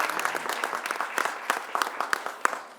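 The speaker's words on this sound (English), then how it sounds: "Let's give yourselves a round of applause." An audience of business owners and council members applauds at a governor's public safety event, a dense, continuous patter of many hands clapping at close to moderate distance throughout.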